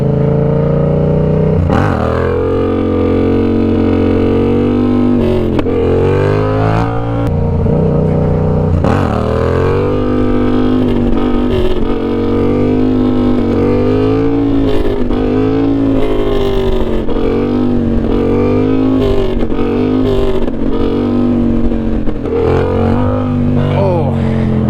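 A car engine drones loud and steady from inside while driving, pitch rising and falling as it slows on second-gear engine braking, with someone talking over it.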